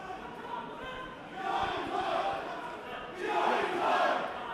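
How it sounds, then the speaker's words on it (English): A noisy boxing crowd at the Amar Kayani versus Teodor Boyandahiev bout roars and cheers, the noise swelling in two loud surges over a steady murmur. "Very noisy crowd in here."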